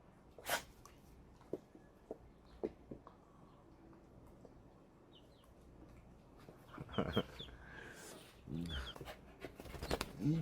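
Hens on a rural farm cluck faintly and intermittently at a distance. A dog pants nearby, and a few soft voices murmur as the clucking grows busier toward the end.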